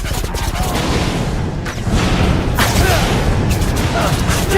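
Confringo blasting curse from the Harry Potter Deathly Hallows game, a dense loud burst of explosive noise with rumbling blasts and crackling that fills the whole moment, with a voice calling out briefly.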